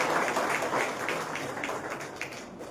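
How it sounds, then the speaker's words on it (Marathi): Applause from the audience at an award and felicitation ceremony in Barshi, a dense crowd clapping fairly loudly that holds steady and then eases off slightly toward the end. "एकदा जोरदार टाळ्या वाजवून बापूंच्या ठिकाणी आपण कौतुक करूया."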